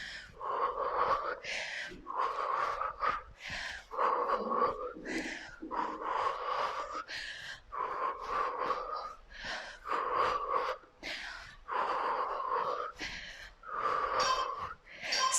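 Heavy rhythmic breathing from a person running in place during a home cardio workout, with loud, close exhales and gasps repeating steadily and no talk heard.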